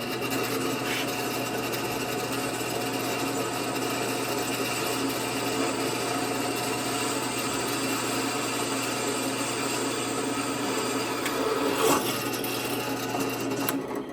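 Steady, continuous mechanical whine and grinding of a drill press boring through a metal brake rotor, loud and close, with a constant hum throughout and no talking.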